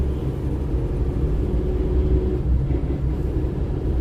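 A car with a misfire and freshly changed spark plugs accelerates up a hill after a light touch of the gas, giving a steady, loud low rumble of engine and road noise with no talk.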